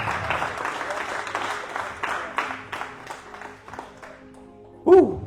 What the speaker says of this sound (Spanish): ¿Qué tal si le das un aplauso al Señor?